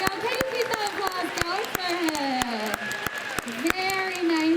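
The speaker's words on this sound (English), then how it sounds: "Can you keep that applause" Audience clapping after a sea lion demonstration at an outdoor marine mammal show, a steady spread of hand claps mixed with crowd murmur and a presenter talking over it, with several sharp nearby claps standing out.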